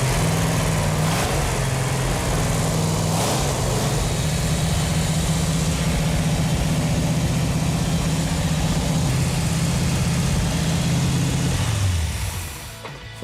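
A 1969 Dodge Super Bee's 440 Six Pack V8 runs at a loud, steady low rumble close by, holding even throughout before easing off at the end, with no talking.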